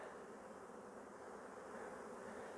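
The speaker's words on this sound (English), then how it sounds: "The bees down here are fanning." Honeybees fanning at a hive box after a swarm, making a steady, dense, even buzzing hum that runs unbroken throughout, close and fairly quiet, with no voices.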